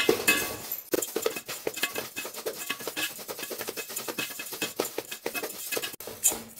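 Urad dal and raw rice being dry-roasted in a pan, with steady rattling, scraping and clinking of grains and a utensil stirring against the metal pan, close and continuous with no talking.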